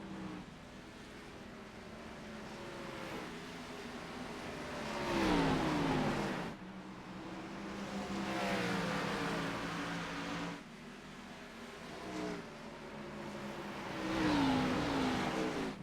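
Race cars rumbling around Bristol's short oval, a steady layered engine roar with rising and falling passes and pitch sweeps as cars accelerate by, moderately loud and continuous with no talk.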